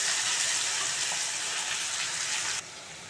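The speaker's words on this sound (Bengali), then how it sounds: "এবার টমেটোগুলো দিয়ে দেবো। টমেটোটা একটু ভেজে নেব।" Chopped tomatoes sizzling in oil in a hot pan for a chicken keema rajma dish, a steady bright hiss that drops noticeably near the end.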